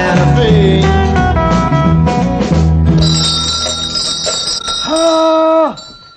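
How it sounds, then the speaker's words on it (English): A ringing bell signals dinner, sounding loud and bright with sustained metallic tones that fade out after a few seconds, with no talking over it. "Oh, yeah, there's the bell. I'll bet it's time for dinner."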